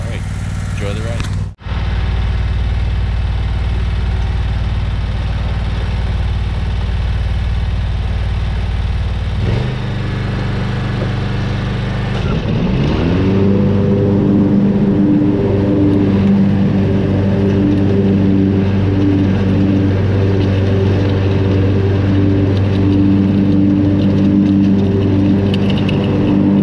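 A lawn mower cutting a diamond stripe pattern into grass: a steady engine drone that picks up and grows louder partway through, then holds at a continuous running hum.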